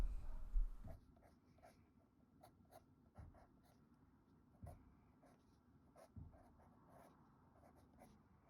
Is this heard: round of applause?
no